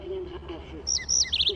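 A small cartoon bird in a My Little Pony episode chirps in quick, high, bright bursts, a few short tweets close together after a brief low murmur of voice.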